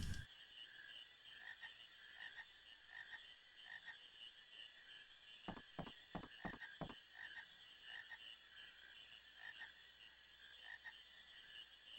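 Frog croaking in the Final Fantasy IX video game, a quick run of about six sharp croaks in the middle over a steady high-pitched in-game ambient drone, with faint repeating calls throughout.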